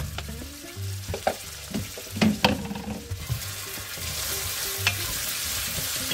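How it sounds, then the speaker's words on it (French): 500 g of finely chopped onions are stirred in a hot pan for a green tomato chutney, scraping and clunking against the pan early on, then settling into a steady close sizzle. "Et je viens maintenant mettre l'intégralité de mes oignons. Donc 500 g hachés finement. Je viens bien brasser."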